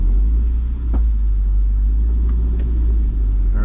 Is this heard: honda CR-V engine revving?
yes